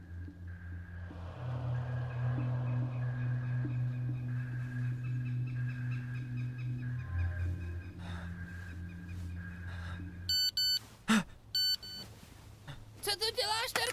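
A phone gives a few short, sharp electronic text-message beeps after a stretch of dialogue in a Czech-dubbed animated film, with voices and a low background hum before it.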